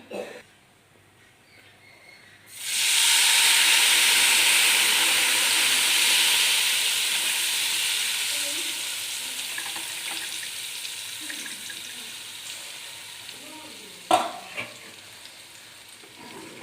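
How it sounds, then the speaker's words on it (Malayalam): Tamarind water is poured into a hot pan of ginger curry, bursting into a loud sizzle that slowly fades over several seconds, with a few faint utensil knocks toward the end. "ഇനി ഇതിലേക്ക് നമുക്ക് പിഴിഞ്ഞു വെച്ച പുളിവെള്ളം ഒഴിച്ചു കൊടുക്കാമേ"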